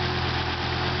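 Freshly rebuilt Volvo 850 T5R engine idles just after startup with stock intercooler pipes fitted, a steady, even low hum with a constant rhythmic pulse and no voices.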